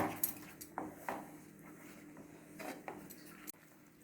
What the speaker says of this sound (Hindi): इसको हमें लगातार भूनना है अच्छी तरह से जब तक ये हमारा टमाटर की प्यूरी भुन नहीं जाती है